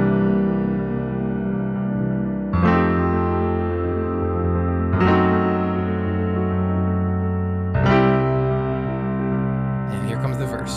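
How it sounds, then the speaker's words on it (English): Electric piano intro from Electric Light Orchestra's "Evil Woman", heard as sustained chords that change roughly every two and a half seconds, each entering with a bright attack, played alone with a slightly effected, echoing tone. "in this lesson I'll teach you the piano part to Evil Woman by Electric Light Orchestra"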